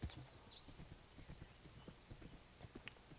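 Two horses in Minecraft with the Fossils & Archeology mod give a steady, faint patter of hoof clip-clops, with a thin whinny-like cry near the start, all quiet and without talk.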